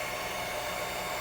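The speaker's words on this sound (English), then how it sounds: "670 watts hairdryer coming from the battery" A 670-watt hairdryer running from a battery through a 1200 W PowerJack modified sine wave inverter, giving a steady, loud, broadband rushing blow with no pauses.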